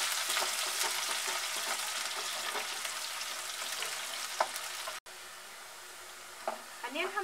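Onions sizzle steadily in hot oil with crackling cumin seeds for rajma, with occasional stirring clinks, a brief dropout near the end, then a few scrapes.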